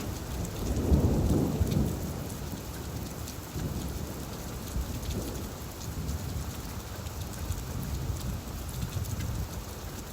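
A steady downpour of rain patters on surfaces while thunder rolls low and heavy. A strong rumble comes early, and fainter rumbles follow under the constant rain.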